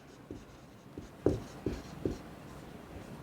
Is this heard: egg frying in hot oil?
no